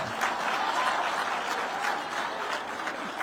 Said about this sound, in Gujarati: એના તાળીઓથી વધાવવો પડે.